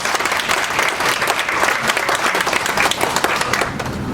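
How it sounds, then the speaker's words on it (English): Audience applauding at a formal gathering, a loud, full burst of many people clapping together, sustained and even across the room. "I think that deserves an applause."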